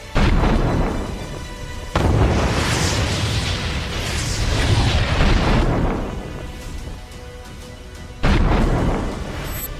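Air strikes in eastern Ukraine: a series of loud, heavy booming explosions, each with a sharp onset followed by a long rumbling roar and debris noise, with three or four distinct blasts.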